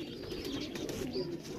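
A favourite fighter pigeon coos softly in a short, low, warbling phrase, close but quiet, with no other sounds around it.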